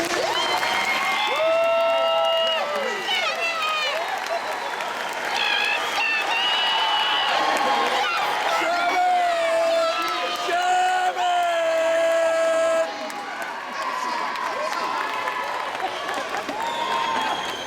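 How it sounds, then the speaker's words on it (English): A graduation audience, on their feet, applauds and cheers for the students' parents, filling the hall with sustained clapping, whoops and shouts, while a voice carries over the crowd. "Let's give them a hand."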